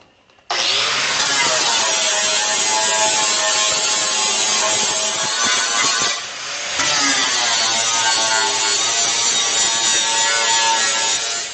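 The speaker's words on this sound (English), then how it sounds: "Just grind it off with I think it's a 24-inch flat wheel from Power Fist" A flap wheel grinder works a car floor pan during a classic car floor pan replacement, a loud, continuous abrasive grinding roar with a brief dip in the middle before it resumes at full strength, with no voices.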